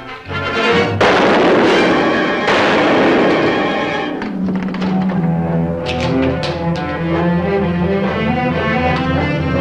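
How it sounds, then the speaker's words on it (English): Gunfire in a Western film scene, a heavy burst of booming shots and thuds filling the first seconds over dramatic orchestral music, then music carrying on with sharper cracks. "Shots from over your way."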